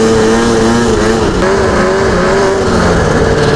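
A snowmobile engine roars close and loud as the sled rides through deep snow while camping, a steady droning whine with slight pitch shifts and continuous hiss of kicked-up snow.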